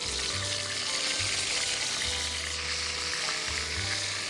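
Chicken pieces drop into hot oil and fry with a loud, continuous sizzle and crackle, while a low hum runs intermittently underneath.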